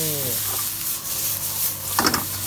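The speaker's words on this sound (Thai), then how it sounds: "แล้วก็ผัดหอมใหญ่ผัดเห็ดเบคอนฮะ ผัดไปสักแป๊บหนึ่งฮะ" Onion, mushrooms and bacon stir-fried in a pan, a steady close sizzle with scraping stirs of a utensil and a brief louder rattle near the end.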